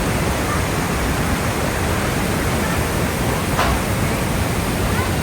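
Roaring water of the wild rapids at Niagara Falls seen from Goat Island, a dense, constant, loud rushing roar with no breaks, filling the whole scene.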